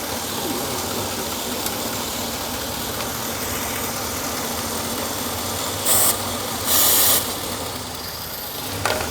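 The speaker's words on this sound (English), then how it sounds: "I'm gonna use a little bit of brake clean. Let's see if this RPM changes at all." A truck engine idles steadily and close by, with a constant mechanical hum and hiss, while short bursts of brake cleaner spray hiss out twice near the end.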